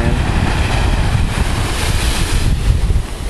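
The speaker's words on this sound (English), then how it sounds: "you can see the ocean coming up, crashing against the sand" Ocean waves crash and wash onto sand at Darkwood Beach, Antigua, a loud broadband roar of surf mixed with heavy wind buffeting the microphone, continuous and close, with no speech.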